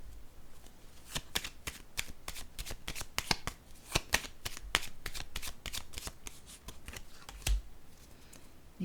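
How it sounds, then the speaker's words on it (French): Tarot cards being shuffled and laid down during a card reading, a quick run of crisp riffling snaps and soft slaps, close and fairly quiet, with no talk. "Je vais déposer une autre carte ici."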